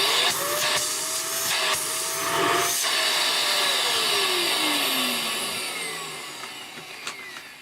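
A Dyson DC24i upright vacuum cleaner, found in the trash, runs with its hose removed, giving a loud, steady whooshing suction roar with a whining tone that shifts in pitch and then slowly fades.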